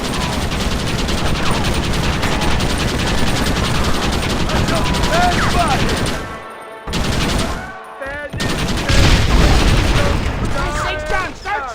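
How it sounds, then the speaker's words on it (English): Red Dead Redemption gunfight with dense, rapid volleys of rifle and pistol shots and booming impacts, loud and continuous, breaking off briefly twice before resuming, with shouting voices mixed in. "Why are they all shooting at me?"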